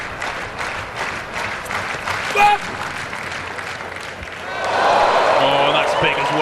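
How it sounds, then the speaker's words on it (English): A stadium crowd in Eugene at a Diamond League shot put event roars and applauds, starting as a broad murmur of clapping and swelling into louder cheering near the end, with a commentator talking over it. "Listen to the reaction of this Eugene crowd."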